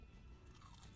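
Salty fries being bitten and chewed, a brief close crunch with a soft, dense texture, quiet and alone with no talking.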